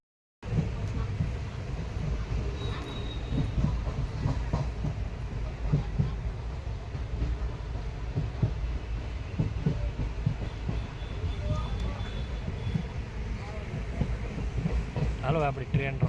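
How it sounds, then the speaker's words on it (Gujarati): A passenger train pulls out of Rajkot station with a continuous low rumble and rhythmic rail clatter that holds steady for the whole stretch, heard from on board. "આપણી ટ્રેન રાજકોટથી ઉપડી ગઈ છે હવે."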